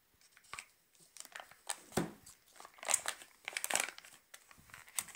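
Plastic wrapper being opened on a package of Ukrainian farm-style butter, 72.6% fat, heard as close, quiet crinkling and crackling in irregular bursts with a few sharper tearing rustles, no talking.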